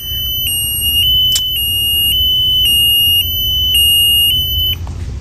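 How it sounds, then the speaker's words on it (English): A vehicle height bar's shrill electronic alarm, set to run for 10 seconds, sounds continuously, its high tone pulsing in regular beats over a low hum, then cuts off abruptly. "That alarm is going to end in 10 seconds."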